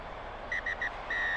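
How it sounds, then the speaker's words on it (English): A referee's whistle in the rugby video game Rugby Challenge 2, during a Glasgow Warriors versus Munster match, gives three short high blasts and then one longer blast over a steady crowd roar. "The ref blows the whistle"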